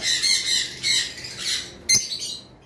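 A blue Fischer's lovebird pair gives a few loud, harsh, close squawks in quick succession, ending with a sharp click-like knock.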